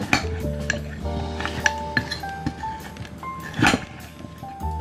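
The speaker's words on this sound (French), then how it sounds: "Et là, vous venez mélanger un petit peu tout." A Sauternes cocktail with honey stirred in a glass, giving repeated close clinks and scraping taps of a spoon against glass, with small knocks of kitchenware and no voices.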